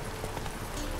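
Horse hooves clip-clopping in a brief burst, the rhythmic thuds blurred into a dense, noisy background with no clear speech.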